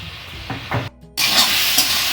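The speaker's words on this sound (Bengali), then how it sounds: "এবার একটু নাড়ছি।" Mutton with turmeric, chilli and pepper powder stirred in a hot pan, a close sizzle with scraping strokes, briefly cut off and then resuming loud and steady.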